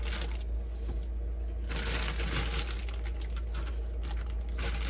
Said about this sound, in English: we're gonna put our meat in this